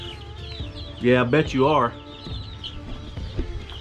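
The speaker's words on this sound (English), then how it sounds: "So you got my chickens coming back." Chickens cluck nearby in a short burst of loud, warbling calls, with softer clucks scattered around them and someone speaking briefly over the birds in a farmyard feeding area.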